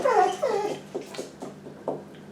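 A pet dog whimpers and whines during a thunderstorm, with a cluster of high, falling cries at the start followed by a series of softer, shorter whines, close and fairly clear.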